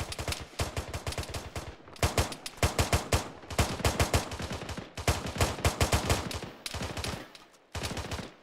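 Rapid bursts of automatic rifle fire in the military shooter ArmA 3, loud and close, cracking in quick repeated strings with short pauses between volleys across the whole stretch.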